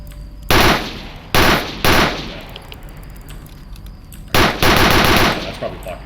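Machine gun fire in a video game: several loud bursts of automatic gunfire, close and punchy, separated by short gaps with quieter game ambience between them.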